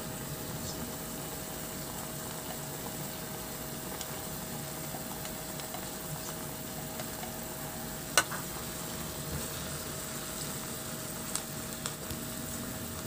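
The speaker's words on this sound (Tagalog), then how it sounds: "Maglagay na rin ako ng bawang at sibuyas." Garlic and onion frying in a pan while chicken wings cook, giving a steady low sizzle that runs the whole time with a few faint clicks and no talking.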